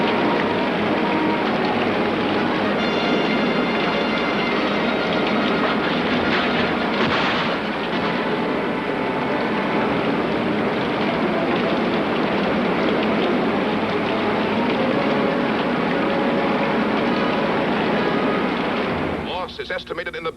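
Torrential typhoon rain lashes down with high winds, a dense, loud, unbroken roar that holds steady for the whole stretch before easing at the very end.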